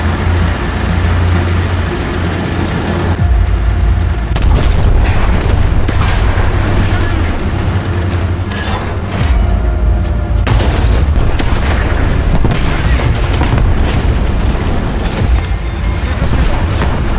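Tank gunfire in War Thunder from two WW1 Char 2C super-heavy tanks. Repeated loud booming shots and impacts fall close together over a constant rumbling engine and battle din, and no one speaks.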